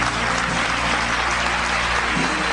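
Church congregation applauding together during a worship service, a dense, steady wash of clapping that fills the whole moment at close range, with no talk over it.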